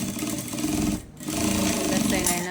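A sewing machine stitching a petticoat in a tailoring class runs in a loud, close, rapid mechanical whir, pausing briefly once before starting again, with someone talking over it.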